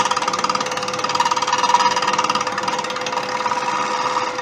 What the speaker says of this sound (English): just listen to the gouge. You hear the bounce?